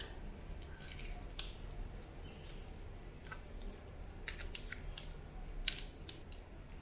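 Scissors snip through a synthetic wig in short, scattered, crisp cuts, close and fairly quiet against a soft background hiss.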